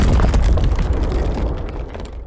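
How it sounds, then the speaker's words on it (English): Explosion sound effect in a fantasy pirate audio drama, a loud deep rumbling blast that starts at full strength and slowly decays into a fading roar. "He did not feel the explosion."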